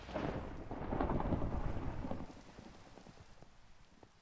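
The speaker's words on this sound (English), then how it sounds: "This place looks better in the rain," Rain and rolling thunder in the video game Minecraft, a heavy rumbling swell over steady rainfall that fades after a couple of seconds, leaving softer patter and drips.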